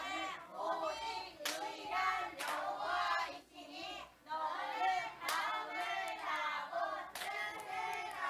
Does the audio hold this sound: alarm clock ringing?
no